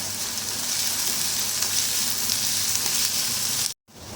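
Chopped onions and two dried red chillies sautéing in a pan for a bitter gourd fry, a dense, loud sizzle that runs steadily and then cuts out abruptly near the end.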